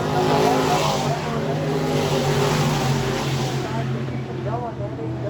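E Mod race cars roaring around Lakeside Speedway, a loud sustained engine drone with shifting pitch as cars pass, under an announcer's commentary.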